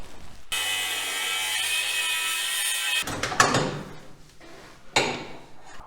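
A power tool cuts out an old transmission shifter mount during a Turbo 400 install behind an LS engine. A steady, high-pitched cutting whine runs for a few seconds, then stops, followed by nearby metallic clanks and knocks.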